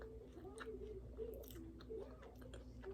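Soft close chewing of a Crumbl peanut butter cookie topped with granulated sugar, quiet moist mouth sounds with faint voice underneath.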